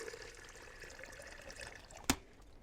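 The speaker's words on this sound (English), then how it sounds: "So let's start with the kettle here. Okay, it's here. And some filtered water," Filtered water pours faintly into a kettle in a quiet kitchen as a soft, steady trickle, ending with a single sharp click near the end.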